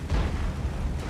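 An AMX tank in a tank combat game blows up in one short, dense, low booming burst that fills the whole second, loud and close with no voices.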